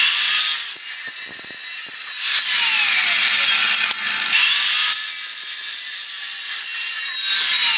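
A saw cuts a miter through metal tube with a continuous harsh, raspy grinding that holds steady for several seconds, close and loud, with no voices.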